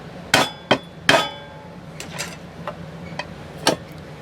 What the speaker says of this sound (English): line our hole up here, and the screwdriver down here. Give it a couple taps.